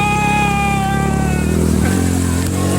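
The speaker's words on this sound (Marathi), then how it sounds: "खूप सुंदर पाण्यातनं गाडी निघाली आहे आपली." A vehicle with its exhaust silencer submerged drives out of water at a village canal and river, its engine droning loud and steady with a buzzing harmonic hum that shifts slightly in pitch as it pushes forward.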